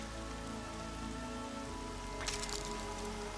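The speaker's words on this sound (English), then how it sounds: "Rain!" Rain pours down in the video game Horizon Zero Dawn, a loud, dense, constant patter and hiss filling the scene, with a brief brighter splash of drops near the end and no voices.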